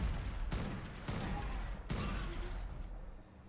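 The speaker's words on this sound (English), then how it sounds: "we're just gonna start shooting" Sustained gunfire from the video game ARK: Primal Fear, three loud broadband bursts in close succession that stay dense and continuous, with faint game sounds underneath.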